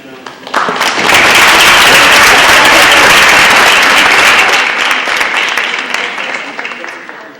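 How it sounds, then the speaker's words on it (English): Sustained applause from an audience at a school district board meeting, honoring a 9th grade boys basketball team; broad, steady clapping from many hands swells quickly and holds, easing slightly toward the end. "Let's give them a nice round of applause."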